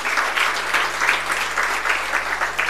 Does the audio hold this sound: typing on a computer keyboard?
no